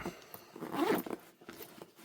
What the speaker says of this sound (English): you can hear the zippers